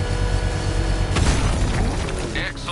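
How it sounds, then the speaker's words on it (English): A controlled bomb detonation set off with a power winch in the Batman Arkham Knight video game, a sudden loud boom partway through, followed by rumbling debris and mechanical clatter over a steady background score. "I can use the power winch to trigger a controlled explosion."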